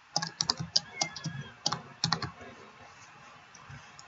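Keys pressed on a laptop keyboard during a Minecraft game, heard as a quick cluster of sharp clicks and taps, then a pause and a second short burst, fairly close and faint, with no voices.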